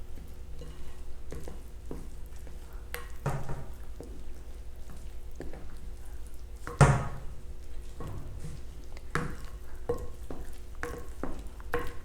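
Vanilla cupcake batter made with brown sugar is stirred in a bowl, and the sides are scraped down. Soft, repeated scraping strokes come up close, with one sharper knock midway and no talking.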